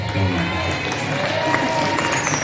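Audience applause for a duror (Islamic percussion and chant) group from Ponpes Al-Huda Al-Karimi at a school Maulid Nabi celebration, a steady wash of clapping from a crowd filling the whole stretch, with low murmuring underneath.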